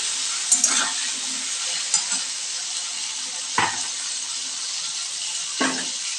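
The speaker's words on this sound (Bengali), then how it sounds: "তো আলুগুলো ভাজা ভাজা অনেকটা হয়ে এসেছে।" Potatoes sizzle in a frying pan with a steady broadband hiss, punctuated by a few sharp clatters of stirring or scraping, heard up close with no talking.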